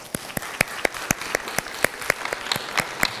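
A conference audience gives a round of applause, a fairly sparse, rhythmic run of individual claps from a modest group, moderately close and steady for a few seconds.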